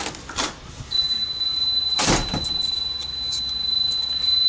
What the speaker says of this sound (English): now let's open the door.